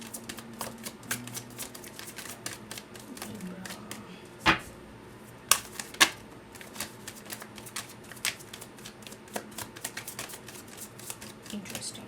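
Tarot cards being shuffled and drawn from a deck, heard as soft continuous riffling and flicking with a few sharper snaps, close up and fairly quiet.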